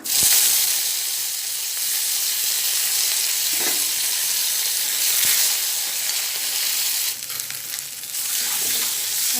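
Mustard seeds, urad dal and curry leaves frying in hot oil, a loud continuous hiss and sizzle with a few pops and a brief burst of sharper crackling near the end, close up and alone.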